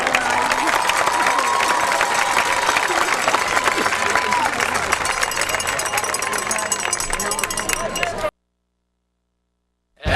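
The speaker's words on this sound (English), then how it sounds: "Give those dads a nice big round of applause." Steady crowd noise at a high school football game with applause and cheering for the dads, a loud, continuous wash of hands and voices that cuts off abruptly near the end.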